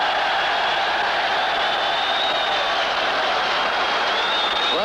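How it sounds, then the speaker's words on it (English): A boxing arena crowd stirring and murmuring as spectators await the final bell and result of a Henry Cooper versus Brian London bout; a dense, continuous, hissing roar of many voices at steady loudness, with no single voice standing out. "The crowd beginning to head up, waiting for the bell and the result."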